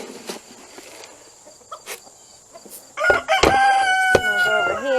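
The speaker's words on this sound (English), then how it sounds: "There's some chickens over here." Chickens and roosters in a farmyard during morning chores, scattered clucks at first, then a loud close rooster crow rising over continued clucking.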